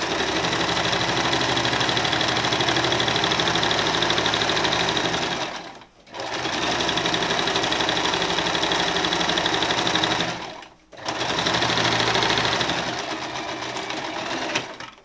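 A sewing machine runs in three steady bursts with two short pauses, stitching a right-sides-together French seam on a shirt sleeve at 7.5 mm, loud and close with no talk.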